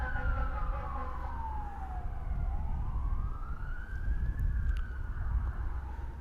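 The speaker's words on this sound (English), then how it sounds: "You guys are hearing a fire truck from afar." A fire truck siren wails from afar, its pitch sliding down and then rising again in a continuous sweep over steady outdoor background noise near the San Diego harbor.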